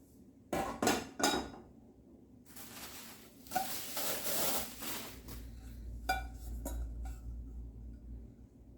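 Metal cookware clanks and scrapes as pans and pots are picked up and set down, a few sharp knocks among softer rattling, close by.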